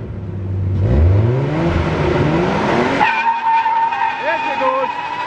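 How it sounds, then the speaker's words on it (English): A 1990s Nissan R32 Skyline does a burnout, its engine revving hard as the tyres squeal loudly and steadily close by, with a voice speaking over the noise. "give us your best burnout, Kay."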